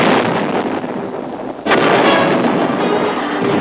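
Artillery fire in Vietnam War combat footage: a sharp, loud blast cuts through a steady wind-like rumble, and a rolling roar lingers after it. No voices are heard.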